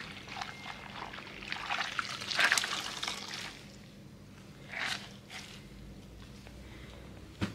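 A wet cleaning cloth is dipped and wrung in soapy water during household spring cleaning, giving soft trickling, pouring and squishing splashes that come in a few short bursts, close and fairly quiet.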